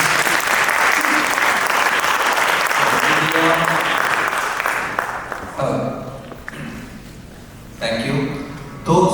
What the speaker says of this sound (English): Please give a huge round of applause to Shri Harish.